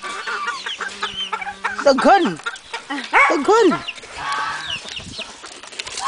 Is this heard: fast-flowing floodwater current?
no